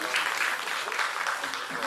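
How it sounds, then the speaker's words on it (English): An audience at a law faculty valedictory ceremony at Kurukshetra University applauds a guest, a faint, distant wash of many clapping hands that stays even for about two seconds, with voices mixed in. "Please give a huge round of applause for the sir"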